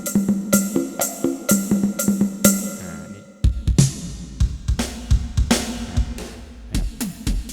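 Rapid drum hits from a Casio LK-55 keyboard's drum kit, played one after another, crisp percussive strikes with some low tonal thumps, loud and close with no voices.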